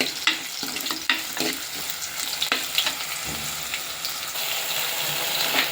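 Small onions sautéing in a clay pot for a village-style fish curry, crackling steadily up close while a spoon strikes and scrapes the pot in sharp, irregular knocks, no one speaking.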